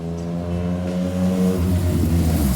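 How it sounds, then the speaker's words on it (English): A motorcycle engine roars past close by, a steady loud drone with rising and falling pitch as it goes, heard from a garage where a Miata is being prepped and primed. "Motorcycle."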